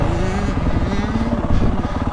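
A 2023 Yamaha YZ450F motocross bike engine revs steadily and loudly up close, its dense, continuous buzz rising and falling slightly over two seconds with no break.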